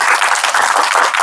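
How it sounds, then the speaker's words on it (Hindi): Crowd at a village gathering clapping loudly for a girl, a dense short burst of applause that fills the moment without any voices. "एक बार बिटिया जोरदार ताली बजाए बिटिया के लिए"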